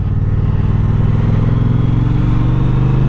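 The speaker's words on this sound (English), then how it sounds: "You get that lovely, lovely sound from this engine." A 2021 Triumph Speedmaster motorcycle with a 270-degree crank engine chugs along at a steady, low, throbbing idle-like pulse, loud and close throughout with no voices.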